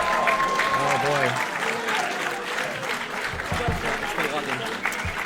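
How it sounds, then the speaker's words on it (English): Audience applause at the 2019 Classic Tetris World Championship side stage, a dense continuous clapping crowd filling the whole stretch, with a commentator talking over it. "If you're hearing all that applause, that's a speed run."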